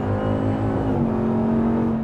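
A RAM TRX pickup with a 702-horsepower Hellcat engine accelerates, its deep engine note rising briefly and then holding a steady, close, loud drone.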